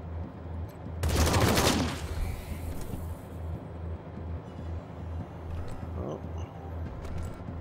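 A dense burst of gunfire from the post-apocalyptic video game Wasteland 3 erupts for about a second, loud and close, then gives way to a low droning game ambience with a faint clank near the end.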